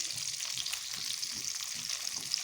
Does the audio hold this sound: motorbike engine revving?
no